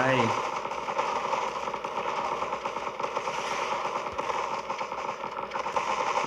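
An incendiary grenade explodes in a zombie defense video game, followed by a continuous crackling, rattling burst like rapid gunfire that runs steadily throughout, loud and close.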